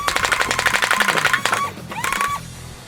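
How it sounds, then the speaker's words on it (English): NERF Xtra Atrox brushless blaster firing full auto at maximum rate: a loud, fast rattling burst of darts with a rising motor whine, then a short second burst as the flywheels spin down. "we can swap that into full auto mode right there. And this is the maximum firing rate"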